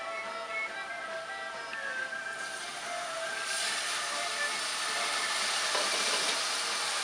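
Half a cup of red wine poured into a hot pan while cooking a French dish sets off a soft steady hiss, with the sizzle swelling and brightening partway through and holding to the end.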